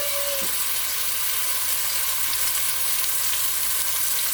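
Ground beef sizzling in a hot skillet as it cooks for a hamburger-helper-style pasta, a steady, loud frying hiss that carries on without interruption and no voices over it.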